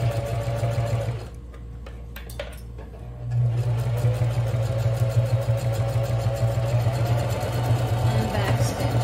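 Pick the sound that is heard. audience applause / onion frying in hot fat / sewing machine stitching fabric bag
sewing machine stitching fabric bag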